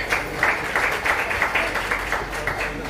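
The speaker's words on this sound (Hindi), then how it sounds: "और तालियां बजा दीजिएगा" An audience at an award ceremony applauds in a steady, rhythmic round of clapping, moderately close and fairly loud, without talk over it.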